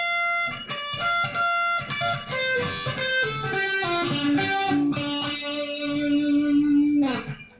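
Electric guitar playing a lead lick slowly, a run of picked and pulled-off notes with effects, settling on a sustained bent note before cutting off sharply.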